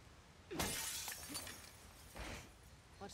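Glass shatters in the video game The Last of Us Part 2, with a sharp crash followed by a second breaking burst and a few tinkling fragments afterward, close and fairly loud.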